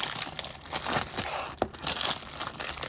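The cellophane wrapper of a 1989 Fleer baseball card rack pack is torn open, giving close, loud crinkling and crackling with sharp tearing bursts and no talk.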